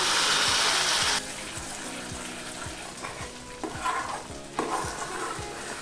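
Half a glass of water is poured into a pan of sizzling stuffed eggplant (gutti vankaya) masala. A loud burst of hissing steam opens, then settles into a softer bubbling sizzle with a stirring scrape and a second hiss.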